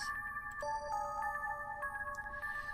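A telephone ringtone from the visual novel game Summer Nightmare plays a bright electronic melody of repeating sustained tones, steady and fairly quiet, with no voices.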